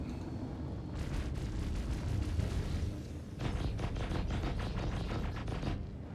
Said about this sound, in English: Cannons just sound so much better, I'm sorry, they're so cool.